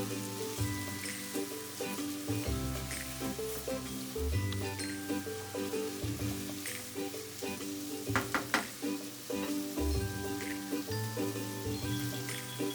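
Pork stir-frying with yellow bean sauce and dark soy sauce, a soft sizzle under repeated rhythmic scrapes and knocks of stirring, close and fairly quiet, no talking.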